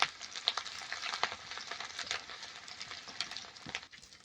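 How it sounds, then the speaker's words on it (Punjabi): Chopped ginger and garlic fry in a pan with a soft, continuous sizzle broken by frequent light crackles and spatter pops, fairly faint and without any talk. "ਕੱਟਿਆ ਹੋਇਆ ਅਦਰਕ ਤੇ ਲਸਣ ਇਹਨਾਂ ਦੋਨਾਂ ਚੀਜ਼ਾਂ ਨੂੰ ਚੰਗੀ ਤਰ੍ਹਾਂ ਭੁੰਨ ਲੈਂਦੇ"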